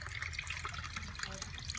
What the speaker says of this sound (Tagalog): lagyan natin to ng tubig